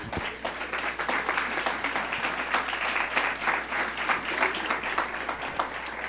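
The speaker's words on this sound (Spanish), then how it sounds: "dele un aplauso a Dios" Church congregation applauding during a sermon, a dense sustained wash of many hands clapping at steady loudness throughout, fairly close, with no speech over it.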